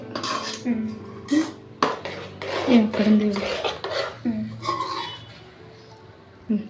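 A metal lid goes onto a cooking pot while a sweet festival offering with cardamom is made, among loud, repeated clanks and scrapes of cookware and utensils, ending in a final sharp clatter.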